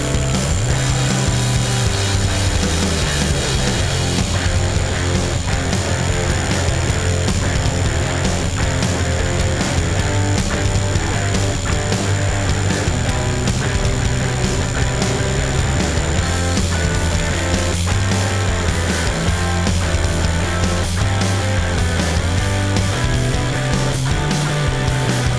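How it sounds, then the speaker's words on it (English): A Bosch Bulldog one-inch rotary hammer drills steadily without a break, a loud, dense, grinding hammering roar that holds constant throughout with no speech. "Bosch claims that this Bulldog is the fastest drilling one-inch rotary hammer in the business."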